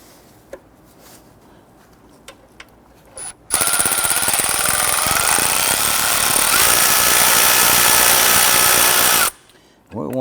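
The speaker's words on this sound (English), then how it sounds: "So we're going to use our 10mm socket and our extension." A 10mm socket on an extension loosens the battery J-hook nut on a 2006-2014 Honda Ridgeline, heard as a loud, steady power-driver whir lasting about six seconds after a few quiet clicks, then stopping abruptly.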